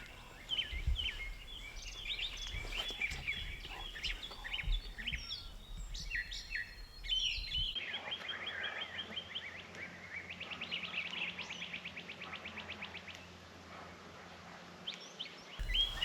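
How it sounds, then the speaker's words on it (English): Wild birds calling outdoors in Maryland, several chirps and songs overlapping from near and far, busier at first, then steadier repeated calls over a faint background hum, with no talk. "We're trying to wait to see if these birds will come to us."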